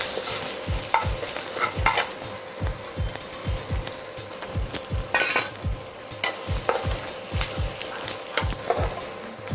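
Ginger, green chili and curry leaves being sautéed in oil for a sweet and sour ginger pickle, with a steady rhythmic run of stirring scrapes over a continuous sizzle, close and fairly loud.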